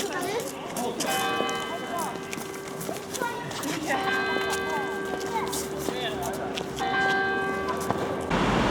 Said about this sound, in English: Not the church bell, no. Town hall bell.